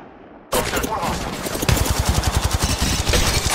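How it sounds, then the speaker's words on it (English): Automatic weapon fire in the Apex Legends video game starts abruptly and continues as a rapid, loud burst of shots, with a faster rhythmic volley toward the end. "shots fired at me"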